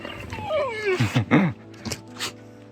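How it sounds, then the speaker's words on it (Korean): A retriever dog whimpers and yelps in a few short, rising and falling cries, fairly close, followed by a couple of softer yips. "리티르버 강아지가 있는데요"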